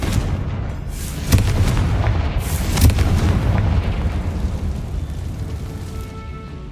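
Confringo spell blasts in Hogwarts Legacy: a couple of heavy booming explosions spaced a second or so apart over a rumbling, noisy backdrop that slowly fades, loud and close.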